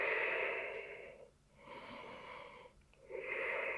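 A deep breath during a breathwork exercise: long airy inhale and exhale cycles, close and fairly quiet, with two short pauses between breaths.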